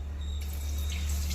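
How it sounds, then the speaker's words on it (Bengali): Milk pours steadily into a little water in a kadai on a gas stove while making mishti doi, a continuous close liquid stream with a steady low hum underneath and no talking. "এইবার এই জলেতেই দুধটা ঢেলে দেব"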